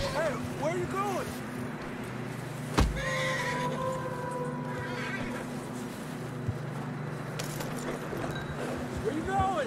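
A horse whinnies a few times in Red Dead Redemption 2, with rising, wavering calls over a steady background hum and a sharp knock partway through, amid game ambience.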